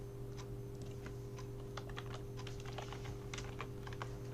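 Keys pressed on a computer keyboard during a spreadsheet lesson, a Control-Shift-Enter shortcut among them, give a scattered series of soft clicks over a steady low electrical hum.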